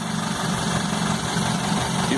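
Motor engine running steadily after being injected with cleaner, a continuous low idle rumble with constant vibration, close and unbroken throughout.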